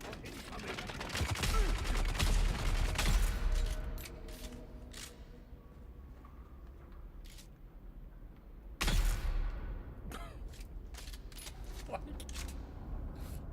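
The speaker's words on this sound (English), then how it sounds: "Gunshots going off all around him." Sharp bursts of gunfire in the video game Dune Awakening crack repeatedly amid a busy, noisy background, some shots close and loud, others scattered and fainter, with voices speaking at times.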